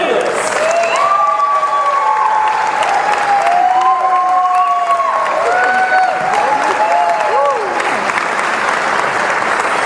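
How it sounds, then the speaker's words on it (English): Audience at a barbershop chorus annual show applauding to welcome a quartet, dense loud sustained clapping and cheering with tonal whistles or sung notes sliding over it throughout. "please give a big old round of applause and a welcome to Joe, Brian, Pat, and Scott Layless"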